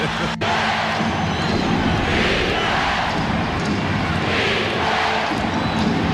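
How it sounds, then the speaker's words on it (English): Basketball arena crowd at an NBA game featuring Hakeem Olajuwon, a steady dense roar that swells in waves throughout, loud and continuous. "This crowd's not going to stay quiet."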